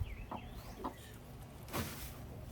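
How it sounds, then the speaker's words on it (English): A small flock of backyard chickens clucking briefly, a few soft clucks and squawks at close range and fairly faint, with no talk. "This is the life when you got a bunch of chickens."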